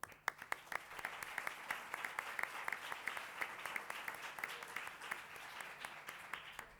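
An audience applauds steadily, a dense patter of many hands clapping at moderate distance, fairly quiet and continuous.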